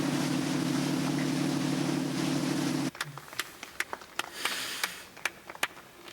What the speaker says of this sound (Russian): Прямо по курсу катер.